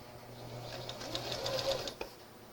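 Sewing machine backstitching a thin knit fabric strap, a soft continuous needle whir at moderate distance that rises slightly in pace, with a small click just after it settles.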